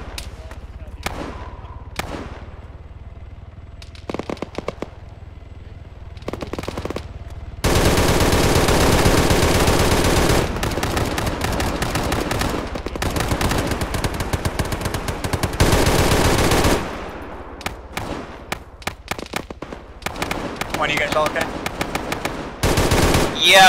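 Military video game combat in ShackTac, sparse single gunshots at first, then long loud stretches of machine-gun fire and heavy shooting, with radio voices talking over parts.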